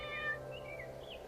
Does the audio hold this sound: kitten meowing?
yes